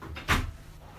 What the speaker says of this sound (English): He shuts the door or opens the door,